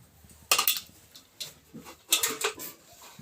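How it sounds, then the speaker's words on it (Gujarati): Several sharp clinks and clatters of dishes and utensils being put away, in short bursts with pauses between, fairly close. "આપણે વાસણ બાસણ મૂકી દેવી"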